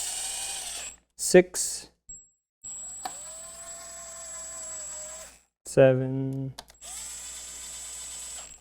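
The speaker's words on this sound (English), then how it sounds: "I'm just using the impact to basically run all the bolts in so I don't have to do it by hand." Impact wrench on a Ford 3.5L V6 spinning in timing cover bolts, heard as short whirring bursts near the start and again past the midpoint, between stretches of a steady hum and a voice counting.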